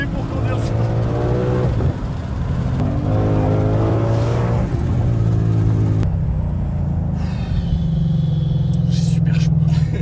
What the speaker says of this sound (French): même l'accélération c'est très très fort.